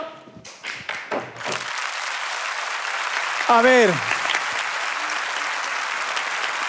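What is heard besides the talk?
audience applause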